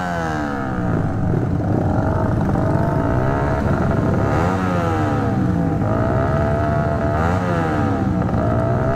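A Yamaha Aerox 300cc motorbike engine, still in break-in, revs up and down in waves, rising and falling in pitch over a constant rumbling drone.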